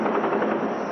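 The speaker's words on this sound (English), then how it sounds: "That's the sound of firing that we have been hearing over here." Continuous rumbling gunfire and mortar fire near Jammu amid India-Pakistan tension, a dense, muffled roar with no distinct separate shots.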